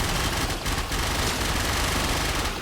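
Sustained automatic weapon fire from a gun in the video game Warframe, a dense continuous rattle of rapid shots that runs loud and unbroken throughout.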